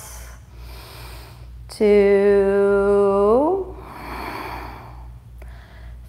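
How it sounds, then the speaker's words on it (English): One long, deep, resonant yoga breath is exhaled with a voiced, humming tone that slides lower at its end, after a spoken count, with quiet breathing and soft background music around it. "we'll stay here for 5 breaths. 1, deep resonant breaths"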